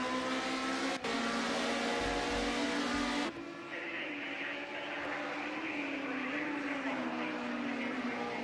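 BMW race cars accelerating up a hill, engines roaring loud with a sharp shift partway through, then a sustained high revving whine as the pack climbs, commentary faintly beneath.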